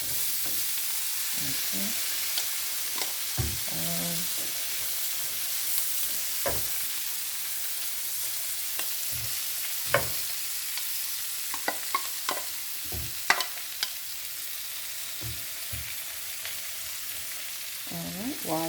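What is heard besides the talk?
onions and spinach cooking in a pot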